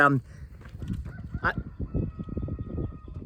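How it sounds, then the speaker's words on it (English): A rooster calls out in a short harsh burst, followed by a low murmur of voices and background noise. "did you guys hear the rooster?"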